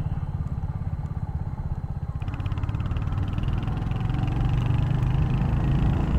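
Royal Enfield Hunter 350 motorcycle, a 350 cc single-cylinder engine, thumping steadily while being ridden, a rapid low pulse that grows slightly louder and rougher as the bike pulls, with no voices.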